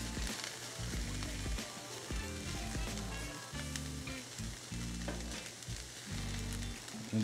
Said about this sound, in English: It's gonna take about 5-10 minutes to get everything sauteed through where we want it to be.